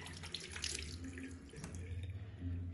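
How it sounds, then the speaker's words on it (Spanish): Tap water runs steadily into a sink while hands are wetted for handwashing, a soft, continuous splashing with a faint low hum, fairly quiet and close. "Lavado de manos es comenzar a humedecer nuestras manos con un poco de agua"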